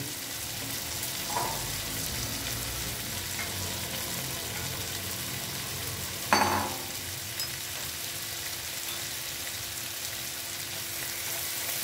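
A paste of ground mustard and poppy seeds fries with onions in a pan, giving a steady close sizzle with occasional stirring scrapes and one sharper clank midway.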